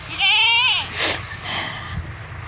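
A castrated male goat lying outside gives one loud, close, wavering bleat, followed by quieter rustling and faint background noise.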